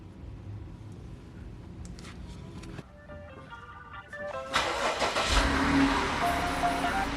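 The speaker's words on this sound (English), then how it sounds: "I'm gonna go ahead and start the car" A 2017 Jeep Cherokee engine is started: a low idle-like hum gives way to chiming tones and a starter crank, and then the engine catches and runs louder and steadier.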